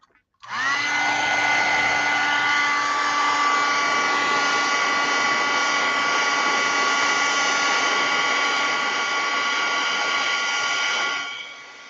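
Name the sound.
heat gun drying paint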